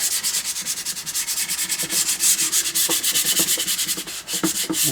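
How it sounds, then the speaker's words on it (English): Light, steady hand sanding of a wooden rifle stock with almost no pressure, removing raised wood fibers: quick back-and-forth rubbing strokes in a brisk, continuous rhythm, close by with no talking. "This is literally just taking all those little furry wood fibers off."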